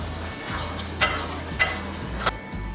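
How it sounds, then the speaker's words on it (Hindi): Ojri, or tripe, stir-frying in oil in a pan, a steady low sizzle with three sharp spoon clicks against the pan spaced about half a second apart, close up and without speech. "अब हम इसको अच्छे से भूनेंगे जब तक इसका ऑयल अलग ना हो जाए"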